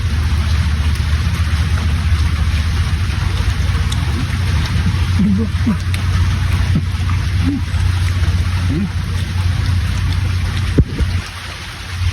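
Steady storm rain hisses continuously with a low rumbling background, and faint scattered sounds drift in beneath the downpour.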